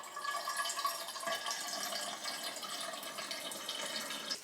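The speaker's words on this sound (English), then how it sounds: "I'm gonna refill my water bottle." Tap water runs steadily into a water bottle in a kitchen, a soft continuous splashing and filling sound heard close and alone for several seconds.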